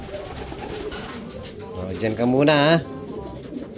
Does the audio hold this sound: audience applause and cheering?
no